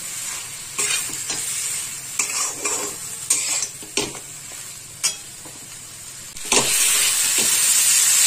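Spice paste frying in oil and stirred repeatedly, with a low sizzle under sharp scrapes and clinks of a spoon against the pan, ending in a louder burst of sizzling.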